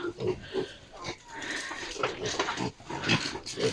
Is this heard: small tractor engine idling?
no